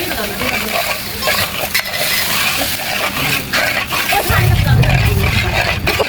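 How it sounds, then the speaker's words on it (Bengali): Sugar being stirred into thickened palm juice in a cooking pot, a dense hissing, scraping sizzle that grows slightly louder toward the end, with a voice heard briefly. "এখন এই চিনি দিলাম"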